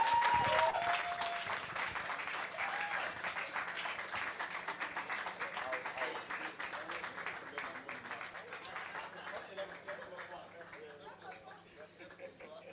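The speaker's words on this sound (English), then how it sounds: "Another round of applause for Mr. Linus Okorie" Audience applause at a book launch, a dense burst of clapping that starts loud and gradually thins and fades over several seconds, with a voice speaking over it.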